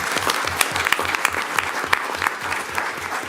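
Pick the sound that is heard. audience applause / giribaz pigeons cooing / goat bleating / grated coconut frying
audience applause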